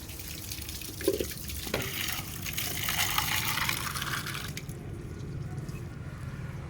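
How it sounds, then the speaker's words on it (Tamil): Tap water runs steadily into a container set out for a pet monkey to drink, a continuous close splashing gush with a brief clink, then it fades to a softer trickle near the end. "நான் தண்ணி பிடிச்சி வைக்கிறேன்"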